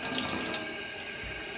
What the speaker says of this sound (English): This is just cool tap water.